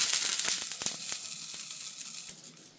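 Eggs fry with spicy beef flavouring in a pan, giving a close, steady sizzle with scattered sharp crackles and pops throughout, no voices.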